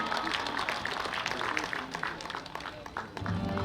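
Audience applause at an award ceremony honoring a recipient, a sustained dense wash of clapping from a crowd filling the whole stretch at steady loudness, with a slight dip near the end.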